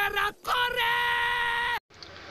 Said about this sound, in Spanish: Entonces uno de ellos le grita a la mujer.